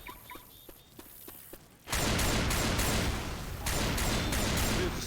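Left 4 Dead 2 gunfire: a few sparse clicks and shots, then sustained dense automatic fire with heavy rain-like wash from the Hard Rain campaign, loud and continuous.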